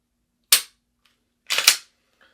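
Pistol shots ring out during defensive shooting practice: one sharp, close crack, a short silence, then two rapid shots almost merged together, each fading quickly into quiet.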